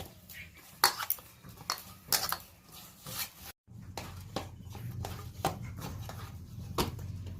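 Rice flour dough for puli pitha being kneaded by hand in a bowl, irregular soft slaps and thumps with occasional clinks of the bowl, close and fairly quiet, with a brief drop to silence midway.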